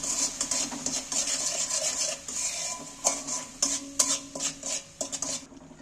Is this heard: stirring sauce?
yes